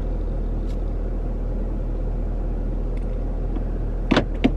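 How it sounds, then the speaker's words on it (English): A Chevrolet Camaro rolls off from a stop as the brake is released, a steady low engine rumble throughout, with a couple of brief sharper clicks or knocks near the end. "now let go of the brake slowly and the car's gonna go on its own"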